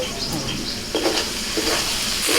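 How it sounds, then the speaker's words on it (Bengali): Capsicum of two kinds and chicken stirred and sautéed in a pan for a Kabul roll, a steady sizzle with scraping spatula strokes pushing through the frying hiss at close range. "দুই রকমের ক্যাপসিকাম আমি দিয়ে দিয়েছি ভালো করে একটু কষিয়ে নেব চিকেনের সাথে নাড়া নাড়াচাড়া করতে করতে"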